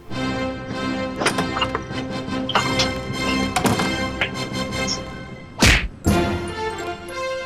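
Movie fight sound effects: a run of sharp whacks and thwacks over a music score, with two especially loud hits near the end.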